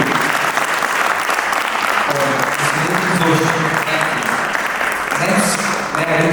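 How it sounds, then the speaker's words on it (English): Enthusiastic audience applause at a felicitation ceremony, dense clapping filling the hall throughout, with a presenter's voice speaking over it. "A huge round of applause to Shri"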